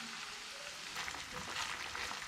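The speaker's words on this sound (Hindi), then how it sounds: "इस साग को यहाँ पे आपने 3 से 4 मिनट फ्राई करना है अच्छी तरह" Punjabi-style saag frying in a pan with spices, giving a steady soft sizzle with faint stirring scrapes throughout, close and even, with no talking.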